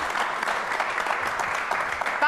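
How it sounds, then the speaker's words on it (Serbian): A television studio audience claps in a sustained, dense round of applause, an even crackle of many hands that holds steady throughout. "vidite, ovaj aplauz već govori"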